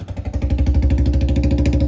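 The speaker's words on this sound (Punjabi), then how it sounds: "ਇੰਜਨ ਦੀ ਆਵਾਜ਼ ਸੁਣਾ ਲੈ" A tractor engine runs steadily up close, a loud, even, thumping putter with a rapid regular beat throughout.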